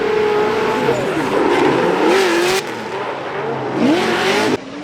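A racing car descends a hill on track, its engine loud and close, rising and falling through gear changes and revs across several seconds, with a brief cut near the end.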